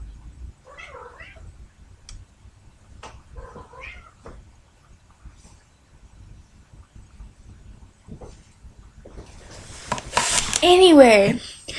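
Male cats mating outdoors: a few short, faint meows early on, then a loud rising and falling yowl near the end, heard close by with quiet background noise.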